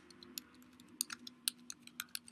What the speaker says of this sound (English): I can't even type right now.